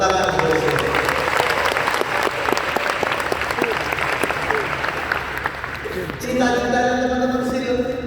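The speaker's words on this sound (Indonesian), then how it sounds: "Tepuk tangan untuk itu." Audience applause fills a hall at a university faculty graduation ceremony, sustained dense clapping for about six seconds, then fading as music or voices take over.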